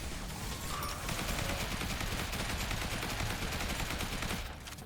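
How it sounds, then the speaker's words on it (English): Rapid assault rifle fire in the zombie shooter Zombie Survivors, a dense unbroken stream of shots with small impact sounds mixed in that drops off sharply at the very end. "This assault rifle is just mowing them down"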